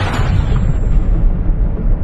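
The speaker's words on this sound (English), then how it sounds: "you're surprised by the sound of artillery." Artillery fire from Ukrainian guns near a launch site comes as a single heavy, loud, low rumbling boom that fills the moment and slowly decays.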